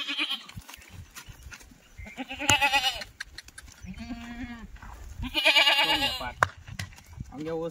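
Several tethered goats bleat in overlapping, wavering calls, some loud and near, with quieter bleats between them and faint background voices.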